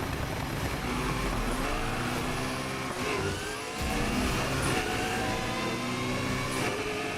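A McLaren's engine in Need For Speed Heat, a continuous loud revving drone with shifting pitch as the car accelerates and changes gear, steady throughout with no talk over it.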